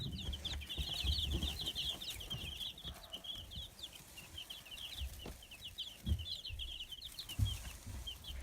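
Many week-old baby chicks peep and cheep continuously in high-pitched chirps, with faint rustling and shuffling underneath, fairly close.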